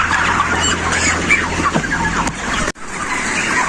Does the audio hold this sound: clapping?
no